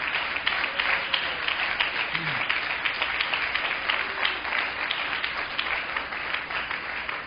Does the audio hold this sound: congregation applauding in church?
yes